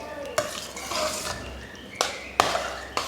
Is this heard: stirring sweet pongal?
yes